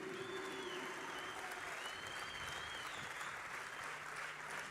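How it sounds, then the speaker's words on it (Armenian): An audience at a concert performance applauds the army with steady, even clapping that fills the whole stretch, heard from a little distance and fairly quiet, with a thin sustained tone faintly above it. "Եկեք ծափարենք նաև մեր բանակին"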